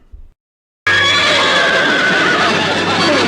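A horse neighing: one loud, sustained whinny that bursts in after a brief quiet moment and fills the rest of the clip, close and unaccompanied by talk.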